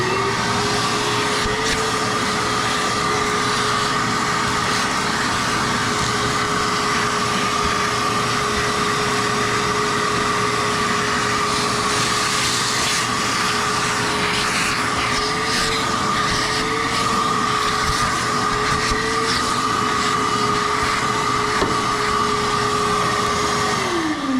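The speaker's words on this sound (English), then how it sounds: "I'm gonna grab the vacuum and clean this up so I don't lay in it." A vacuum cleaner sucks up debris during heater core work on a 1967 Pontiac Bonneville, a loud, continuous motor whine holding one steady pitch throughout, dropping slightly right at the end.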